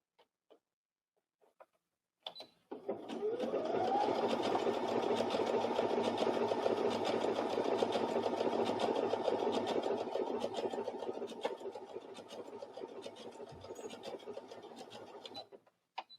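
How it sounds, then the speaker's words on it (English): Sewing machine fitted with an overcasting foot stitching along the raw edge of a fabric seam, a steady, fast mechanical whir running about thirteen seconds close by, with no talk. "So I might use the overcasting foot to finish the edge of a seam."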